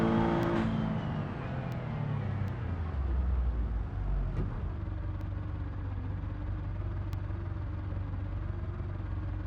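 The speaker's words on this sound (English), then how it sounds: "Full throttle, first gear." In BeamNG, a car engine is pushed to full throttle in first gear. It sounds like a loud rev that sweeps down, then settles into a low, steady strained drone with no talking.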